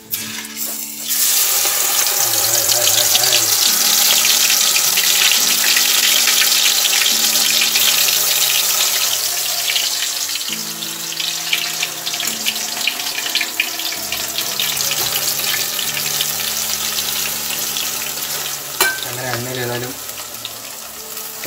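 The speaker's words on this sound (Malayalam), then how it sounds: "കുറച്ച് ഇങ്ങനെ നമുക്ക് കോരിയിട്ട് നല്ല എണ്ണയിലേക്ക്" Jackfruit pieces dropped into hot oil, bursting into a loud, bubbling sizzle after a brief quiet start, with clatters of a utensil and a running-water quality layered over the frying.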